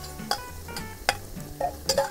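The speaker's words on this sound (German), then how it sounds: "dann nehme ich mir die Zwiebeln und den Knoblauch, gebe das dann ebenfalls in den Topf rein" Onions and garlic fry with Weißwurst sausage pieces in a pot for a Bavarian goulash cooked on a grill, giving a soft, continuous sizzle broken by several stirring scrapes, with no speech.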